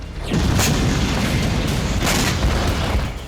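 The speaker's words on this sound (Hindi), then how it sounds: "फाइटर जेट से ये मिसाइल दागी जा रही है।" A missile launched from a fighter jet, heard as a loud, close roaring boom that swells quickly and holds as a harsh rushing blast for a few seconds.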